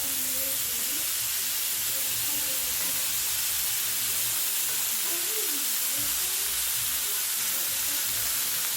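Thick pieces of low-carb food frying in a pan, a steady close sizzle and hiss running throughout while a pot boils nearby.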